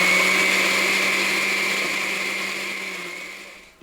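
A blender grinds tomatoes and chili into a red spaghetti sauce, a loud, steady motor roar up close that holds for a few seconds and then winds down at the end.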